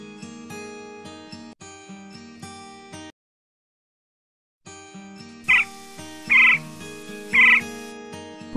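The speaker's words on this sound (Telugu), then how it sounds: "quail" A quail calls three times in short, evenly spaced bursts, loud and close, following a stretch of soft music and a brief silence.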